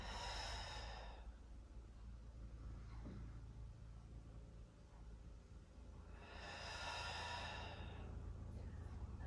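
Two long exhaled breaths during a guided stretching exercise, airy hisses at the start and again after several seconds, close and soft over a low background rumble.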